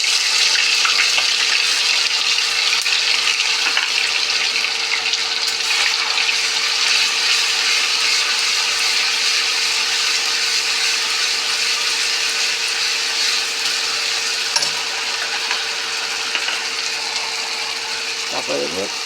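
Whole spices and ginger garlic paste sizzle and crackle in hot oil in a pan, a loud, steady frying hiss that continues for the whole stretch with occasional clinks.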